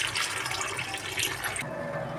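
Water soaked with soya meal maker chunks pours and splashes steadily in a kitchen as it is drained off and the chunks are rinsed, a constant close rushing that drops away near the end.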